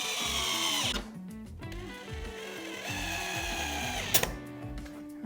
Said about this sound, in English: Gonna do 2 pilot holes. And then screw these into place.